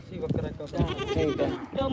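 A black billy goat at a livestock market in Dhanaula, Punjab bleats in short wavering cries, mixed with continuous nearby voices of people talking.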